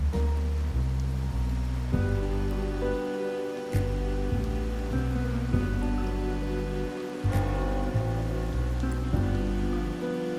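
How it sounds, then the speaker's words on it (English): Steady rain falls in the Wuthering Waves game, a continuous hiss of drops blended with a sustained musical score that plays throughout. "Rain's back."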